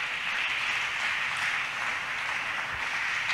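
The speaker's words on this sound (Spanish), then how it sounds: "Démosle ese aplauso al Señor" Church congregation applauding during a sermon, a dense, continuous wash of many hands clapping at once, even in level and moderately loud, with no distinct individual claps standing out.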